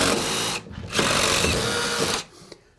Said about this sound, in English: We drill it out to measure.